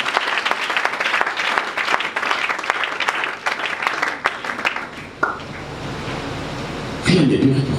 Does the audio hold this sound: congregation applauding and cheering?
yes